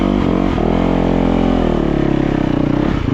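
A Yamaha YZ450FX dirt bike engine revs loudly up close, its rough four-stroke note rising and falling in pitch over a few seconds.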